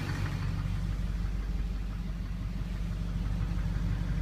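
A GMC Sierra 2500HD Duramax diesel idles with a steady low rumble and faint clatter, heard close and alone without any talk.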